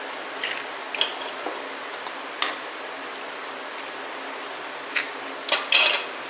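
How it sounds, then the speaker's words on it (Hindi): Two eggs cracked against a bowl and dropped into raw chapli kebab mixture in a home kitchen, giving a few sharp clinks and taps scattered over several seconds, fairly close, with a quiet background. "अब 2 अंडे लिए, तोड़ते हैं इसके अंदर।"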